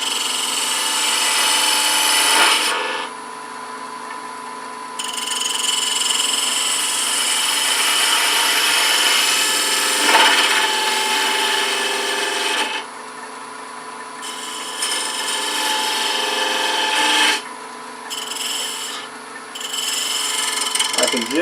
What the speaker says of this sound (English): I'm going to use the spindle gouge.